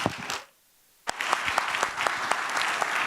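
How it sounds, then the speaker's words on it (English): Audience applause greets a speaker at the Pitch In! 2018 community event. A short burst of clapping fades into a brief silence, then dense, lively applause resumes with sharp individual claps standing out. "Thanks for 2 rounds of applause."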